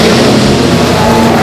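Drift cars at full throttle at the end of the first turn at Ebisu circuit in Japan, a loud, unbroken wall of engine roar and exhaust noise filling the whole moment.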